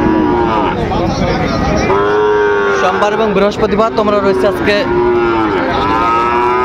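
Sahiwal bulls and calves low repeatedly and loudly at a busy Ranigonj cattle market in Dinajpur, their overlapping moos filling the air while someone talks over the herd.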